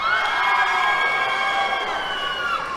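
A graduation audience cheers and whoops continuously for the top ten graduating seniors, a dense, sustained crowd roar with shouting voices, steady and loud throughout.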